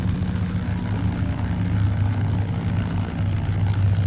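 De Havilland Beaver piston engine in X-Plane 12 idling at around 900 to 1000 RPM while taxiing on turf, a steady low propeller drone with a throbbing pulse that continues unbroken.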